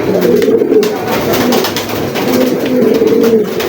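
Racer pigeons coo steadily and close by, with soft, repeated throaty calls over a constant background and no talking.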